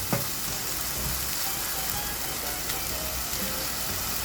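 A squid dish slow cooks in a pan, giving a steady, close, continuous sizzle with faint crackles and no voices.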